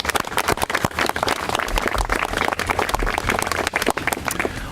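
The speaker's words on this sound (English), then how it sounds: "Please give them a round of applause." Applause from an audience at a city budget announcement, a dense, steady wash of many hands clapping continuously throughout, fairly loud and close, with no voices.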